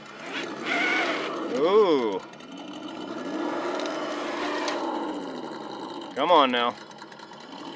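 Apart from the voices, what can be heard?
RC car motor revving in mud at full throttle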